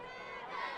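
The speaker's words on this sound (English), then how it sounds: "Outstanding crowd has stuck around past halftime here at the courtyard." A high school football crowd cheers and roars in a steady, dense wash of voices at a night game in Ossian, swelling louder toward the end.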